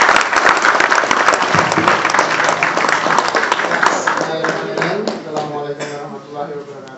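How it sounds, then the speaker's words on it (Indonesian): An audience bursts into loud applause for a stage performance, a dense wash of close clapping that gradually thins and fades as a voice begins speaking. "Aplaus dong."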